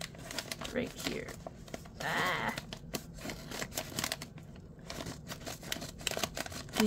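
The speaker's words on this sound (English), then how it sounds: "These scissors cut everything." Scissors snip repeatedly through plastic product packaging, sharp crisp cuts with crinkling, a person talking briefly in the background.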